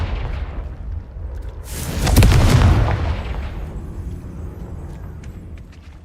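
A Confringo fire spell explodes in Hogwarts Legacy, a single deep booming blast swelling up and then rumbling away over a few seconds, loud against a low background.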